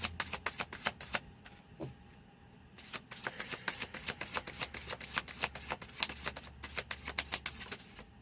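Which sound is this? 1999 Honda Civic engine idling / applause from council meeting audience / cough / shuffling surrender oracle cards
shuffling surrender oracle cards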